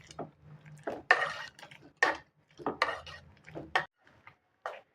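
Cooked three-pulse khichdi being mashed inside a pressure cooker, with irregular soft squelches and sharp metallic scrapes and knocks of a utensil against the pot, close and moderately loud, in bursts separated by brief pauses.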